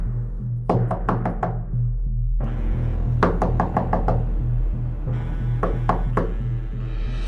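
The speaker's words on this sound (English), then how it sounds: "a knock from the inside of the closet" Knocking from inside a closet in a dark horror setting: three bursts of several sharp raps each, spaced a couple of seconds apart, over a steady low droning ambience.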